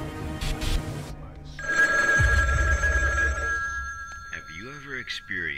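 Telephone ringing inside a phone booth in the video game SCP: Secret Files, a steady electronic bell tone that rings on over low rumbling background, with someone talking over the end.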